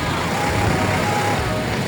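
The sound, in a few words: street traffic in Santa Ana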